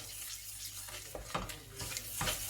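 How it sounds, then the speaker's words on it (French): Yellow taro sauce being stirred vigorously until it foams, giving wet churning and scraping sounds in uneven bursts over a low hiss, close and moderately quiet with no talk. "commencez à remuer comme ceci. Remuez vraiment jusqu'à ce qu'elle mousse"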